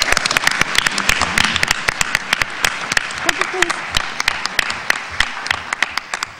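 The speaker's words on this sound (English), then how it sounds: "give us a warm round of applause for Adjoa Ayatoro." An audience at a barbershop celebration event applauds warmly, with dense, steady clapping that stays loud and continuous throughout.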